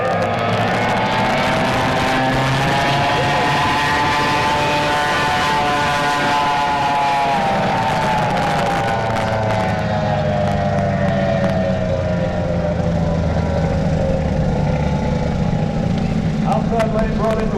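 Loud roaring engines of racing speedboats rising and sliding in pitch as they race away at full throttle from a flag start, with faint background noise throughout.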